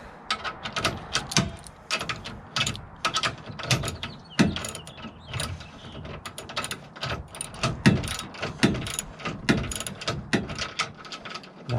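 A Prime Design retractable ratchet tie-down being tightened gives repeated quick ratcheting clicks and clacks in uneven bursts. The sound is close and moderately loud and runs throughout, with no voices.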